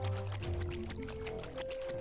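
Splashy, wet footsteps cross a water surface in the video game Yooka-Laylee, a quick, steady run of soft sloshing steps heard alone over faint background tones.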